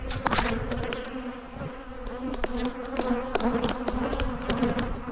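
A mass of agitated bees buzzing close by, a steady loud drone with individual insects zipping past the microphone in sharp passes, no voices.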